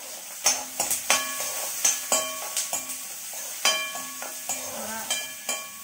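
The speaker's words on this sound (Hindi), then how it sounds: "अभी ये चावल बचे हुए हैं तो मैं ये चावल फ्राई कर ले रही हूँ अपने लिए" Leftover cooked rice frying in a pan at home, a soft continuous sizzle broken by a regular series of sharp metallic taps and scrapes from a spatula stirring against the pan.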